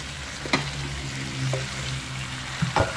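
Mackerel frying in a pan with fish sauce, garlic and chili gives a steady close sizzle and bubbling hiss, with a few brief stirring clatters and no talking.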